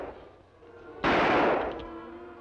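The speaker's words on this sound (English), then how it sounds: "Shots, Tonto." Gunfire in an old Lone Ranger cartoon: one loud, broad blast kicks in abruptly after a quieter stretch and fades away slowly, with no speech over it.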